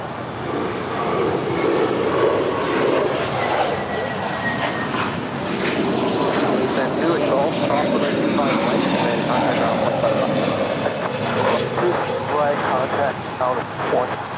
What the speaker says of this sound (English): Next departure here on the south side is JetBlue Airways flight 1524 heading to JFK and an A321neo.